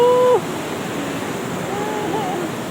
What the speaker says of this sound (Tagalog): ang ganda ng ilog